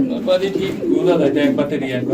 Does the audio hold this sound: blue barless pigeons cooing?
yes